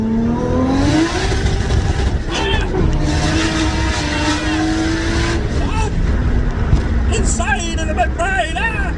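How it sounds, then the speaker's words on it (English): A 500 bhp Nissan Skyline R32 GTS-T launches hard, its engine roaring loud and close with rising revs and gear changes, under excited talk and chatter from people riding inside. "Just check out the insane noise that this car makes, people, because it's quite impressive."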